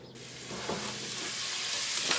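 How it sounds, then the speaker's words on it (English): Kielbasa sausage browning in a pan, a dense, steady sizzle that rises in loudness over a couple of seconds, close and without talk. "I'll get back to you when this sausage is all browned"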